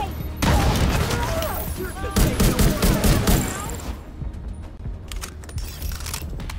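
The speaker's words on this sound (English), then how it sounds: "Launching grenade!" Gunfire and a grenade launch in The Division 2, a burst of rapid shots and a heavy thump over game chatter, dense and loud early, thinning into scattered cracks.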